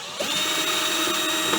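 A power drill backs screws out of the cast aluminium of a Panasonic bread maker being scrapped, giving a loud, steady, close whine throughout with no talking.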